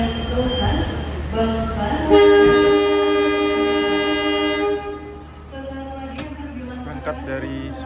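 A crowded KA Pasundan economy passenger train leaving Surabaya Gubeng during Lebaran sounds a long, loud horn blast over the low rumble of the rolling carriages, with people talking nearby.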